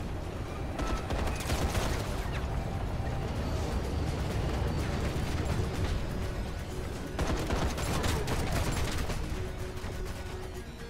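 Sustained gunfire in the shooter Raiders of the Broken Planet, a dense continuous rattle of rapid shots with a brief lull near the middle, loud and close throughout.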